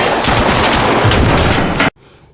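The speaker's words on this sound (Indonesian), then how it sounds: "Tapi dengan tembakan brutal itu, tanpa sengaja mengenai seorang anak kecil." Dense, loud gunfire from an action film, a continuous rapid barrage that cuts off abruptly into quiet.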